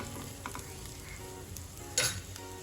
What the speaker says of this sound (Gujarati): ત્યાર પછી આપણે મીઠા લીમડાના પાન એડ કરીશું અને બરાબર મિક્સ કરી લઈશું